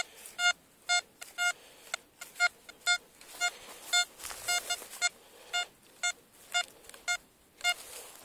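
Repeated electronic beeping tones from an XP Deus metal detector sweeping over a horseshoe buried in soil, short pulsed bleeps recurring in a fairly regular rhythm, close and clear.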